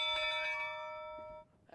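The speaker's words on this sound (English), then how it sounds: "When the bell rings," A single bell strikes once with a bright, clear ring, then decays smoothly over about a second and a half before a faint knock follows.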